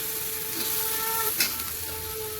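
Onion paste and green chilies being stirred in a pan for a fish curry, a soft steady sizzle with a faint tonal hum and one brief scrape.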